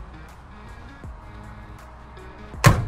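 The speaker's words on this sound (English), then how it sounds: "Door closes nicely." A car door on a 1965 Chevy Malibu SS 502 shuts with one solid, loud thump near the end, following a quiet stretch with a faint earlier knock.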